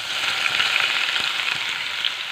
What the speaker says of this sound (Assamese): এইখিনি কুটি থোৱা পিঁয়াজখিনি যে সৰু সৰুকৈ এইখিনি ইয়াত দি দিলোঁ।